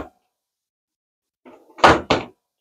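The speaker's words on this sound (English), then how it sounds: "So as you can see, when you close it, you don't got to worry about slamming drawers." Self-closing drawer in a cruise ship ocean-view cabin on Independence of the Seas, with a soft slide followed by two quick muffled thuds as it settles shut, close and clear in a quiet room.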